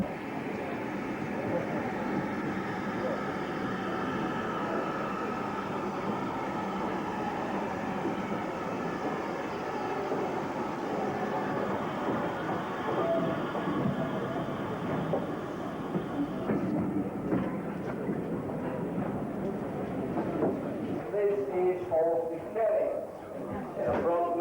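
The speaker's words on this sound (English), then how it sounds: "a ride up the line behind loco number 1618." A steady rumble of a heritage railway carriage pulled by steam locomotive 1618 on the Bluebell Railway, with rolling wheel noise, continuous and close, joined near the end by a speaking voice.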